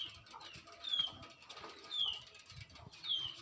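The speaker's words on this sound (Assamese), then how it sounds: "কিবা এটা পাৰবা আহিছে" A pigeon flapping its wings outdoors during a bicycle ride, heard as repeated soft bursts of wingbeats at moderate distance, with faint chirps and background noise.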